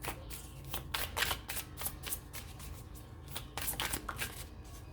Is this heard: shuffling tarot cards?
yes